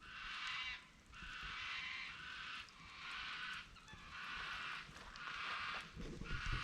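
Birds call in the Australian bush, repeated loud, raspy honking cries in bursts about a second long, several in a row with short gaps, fairly near, over a faint outdoor background with no talking.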